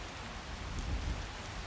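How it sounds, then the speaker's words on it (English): Steady rain in the fantasy video game Skyrim, a soft continuous hiss with low rumbling patter swelling slightly midway, no voices over it. "my counsel is it's raining and Khajiit would like to be on our way"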